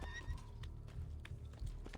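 A spooked horse in the Assassin's Creed video game whinnies and neighs close by, with hoof clip-clops mixed in during a short, moderately quiet burst of game sound.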